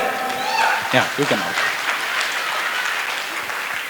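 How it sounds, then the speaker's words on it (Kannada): Audience applause at a stage programme as performers and guest participants are introduced: a short burst of voice, then sustained, dense clapping from a crowd that fills most of the clip. "ಒಂದು ದೊಡ್ಡ ಚಪ್ಪಾಳೆ"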